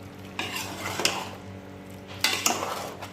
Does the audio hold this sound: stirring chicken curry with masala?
yes